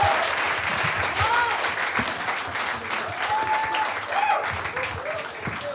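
A live comedy-show audience gives loud, sustained applause for comedian Harsh Gujral, dense clapping filling the room with a few voices calling out over it.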